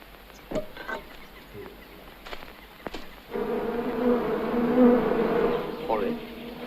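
Bees buzzing inside a basket held in someone's hands, a steady close drone that swells loud and continuous through the second half after a few brief knocks and rustles.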